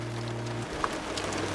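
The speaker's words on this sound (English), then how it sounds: "Afraid that this rain isn't gonna stop like it's supposed to today." Rain falling during a trip toward the Somerset ghost town, a steady hiss of drops with a low hum running through, loud and continuous, with no talking.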